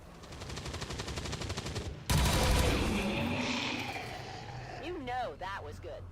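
In the game XCOM 2, rapid automatic gunfire rattles for two seconds, then a heavy blast, and a crackling, fading rumble follows while someone speaks near the end.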